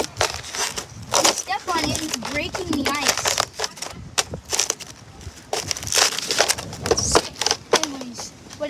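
Ice crushed underfoot outdoors in the woods: repeated crunchy cracking steps in an irregular rhythm, close up, with people talking throughout.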